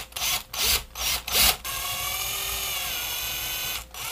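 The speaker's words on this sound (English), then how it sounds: "I'm going to go ahead and drill these out." A small power drill starts and stops in several short bursts, then runs steadily in a high whine as it bores out the plastic eyes of a fishing frog lure, close up.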